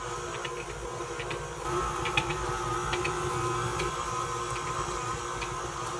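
An electric stand mixer on speed 2 beating cake batter, a steady close motor whir with rhythmic clicking and ticking from the beaters against the bowl, continuous and even throughout with no talk.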